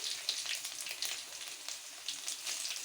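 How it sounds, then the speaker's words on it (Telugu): Cumin seeds, dried red chilies and crushed garlic sizzle in hot oil, a steady bright frying hiss with small crackles and pops throughout, fairly close and moderately loud, no voices. "నూనె హీట్ అయిన తర్వాత ఇదిగోండి దానిలోకి జీలకర్ర అలాగే ఎండుమిర్చి అలాగే మనం క్రష్ చేసుకున్నటువంటి వెల్లుల్లిపాయలను కూడా వేసుకొని"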